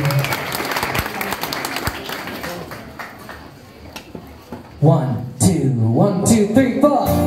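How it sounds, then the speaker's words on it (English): Applause for a rock performer at a London pub gig breaks out as scattered sharp claps over crowd noise, fading after a few seconds before voices and louder sound from the stage take over. "give him a massive round of applause"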